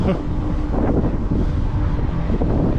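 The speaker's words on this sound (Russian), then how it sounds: "С учетом того, что дует ветер встречный" A headwind buffets the microphone in a steady roaring rush during a ride around Adler and Sirius, Sochi, mixed with low engine-like rumble and faint voices underneath.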